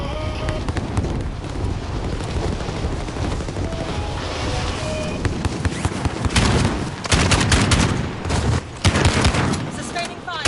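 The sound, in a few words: sustained gunfire in a video game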